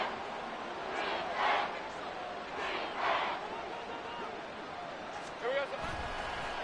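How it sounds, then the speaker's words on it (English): A stadium crowd in a football video game roars in swelling waves under a commentator's steady play-by-play talk, with a few sharp surges rising above the constant crowd noise. "This crowd turning up the decibel level."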